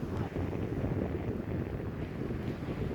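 Steady gusty wind buffeting the microphone outdoors on a day good for kite flying, a continuous loud rumble with no pauses and no voices.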